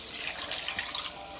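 Water pours steadily into a large pot of soaked rice for green chana pulao, a soft, continuous rushing splash at low volume with no voices.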